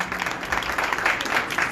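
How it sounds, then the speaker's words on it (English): An audience applauds at a Ram Navami celebration in an ISKCON temple hall, giving a dense, steady patter of many hands clapping at moderate distance. "Yes, let's give her all a big round of applause."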